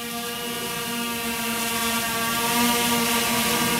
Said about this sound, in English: This will cause the hexacopter to altitude hold.